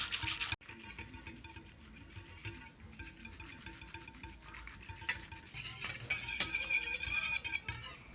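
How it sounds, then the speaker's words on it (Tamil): A whisk stirring yogurt into milk in a bowl, giving a steady close scraping, swishing rub that runs throughout at low level and grows a little busier toward the end. "பாலை ஊற்றிட்டு இந்த விஸ்கில் இப்படி வச்சு யோகட்டு நல்லா பாலோடு மிக்ஸ் ஆகிறதுக்கு இது செய்யணும்."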